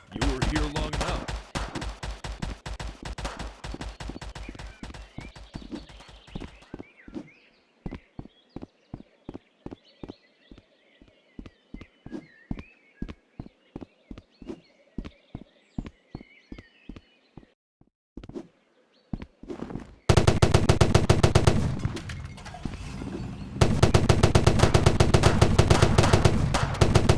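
A golden minigun fires in the Rec Room game Da Hood, loud rapid bursts followed by a long run of evenly spaced single shots, then dense heavy gunfire returning at the end.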